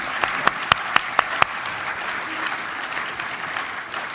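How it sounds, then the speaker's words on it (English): Audience applause at a banking convention panel session: a brief run of distinct claps starting the clip, then a steady wash of clapping from the room that gradually thins and fades out. "How about a round of applause for this terrific panel?"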